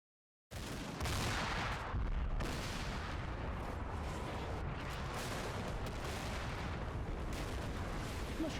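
Combat fire from the Cold War wargame Combat Mission: Cold War: a dense, continuous roar of gunfire and explosions that starts abruptly and holds steady and loud, with a heavy boom near the start.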